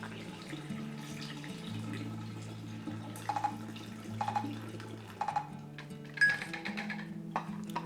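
Developer liquid pours out of a black-and-white film developing tank into a sink, a soft trickling stream over a low steady hum, with a few splashy gurgles near the end.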